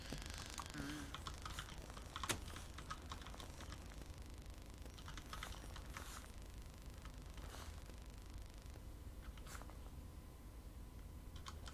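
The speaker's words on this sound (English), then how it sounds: "I hope the sound on my keyboard isn't too obnoxious" Computer keyboard keys clack in quick irregular bursts with short pauses while a player works through a puzzle game, fairly faint over a low background hiss, with no talking.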